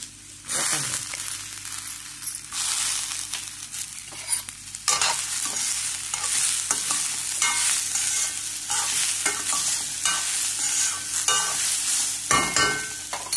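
Wheat rava is stirred as it roasts in a pan, giving a continuous dry sizzle with scraping sweeps of the spoon, loud and close, with no talk.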